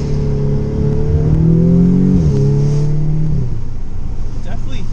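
An Audi S3 fitted with a CTS turbo intake and turbo inlet revs from inside the car, the engine tone climbing steadily then dropping sharply with a whoosh, followed by a lower settling hum.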